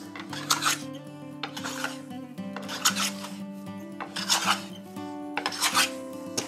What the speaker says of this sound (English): I find for most general planing, throwing it up against some sort of planing stop is a really easy way